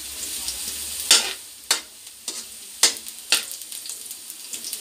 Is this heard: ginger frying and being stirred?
yes